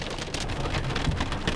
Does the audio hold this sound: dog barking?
no